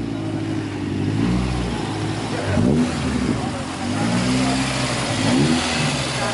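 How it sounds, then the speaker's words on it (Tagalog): A modified, non-stock car engine revs repeatedly at a Davao car meet, a steady mid-pitched drone rising and falling in pitch, close and loud, with the crowd's voices and chatter mixed over it. "Yung mga ganyan lagitik ng makina, yun yung tunog hindi stock eh, no?"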